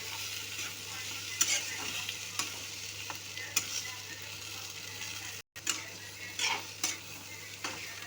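Yellow potatoes with salt stirred and mixed in a pan, repeated spoon scrapes and clinks over a steady low sizzle, close and fairly quiet, with a brief cut of silence midway.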